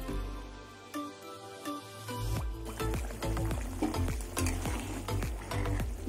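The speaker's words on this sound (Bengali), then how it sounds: "ঝোল ফুটে গেছে" Rohu fish curry broth with potatoes boils in a pot, a steady bubbling churn close by with scattered sharp clinks and knocks throughout.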